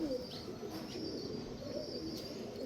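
Pigeons coo softly and repeatedly among breeder birds, low murmuring calls forming a steady bed of sound with faint chirps over it and no talk.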